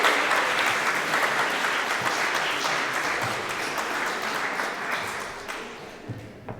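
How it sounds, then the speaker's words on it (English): An audience at a Chopin recital and auction applauds after a lot is sold, a full, even round of clapping that slowly thins and tapers off near the end. "A big round of applause."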